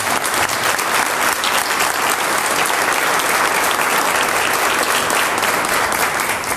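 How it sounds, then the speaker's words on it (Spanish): A congregation at a church service breaks into loud, dense applause, an even wash of many hands clapping throughout with no break. "Denle un aplauso al Señor."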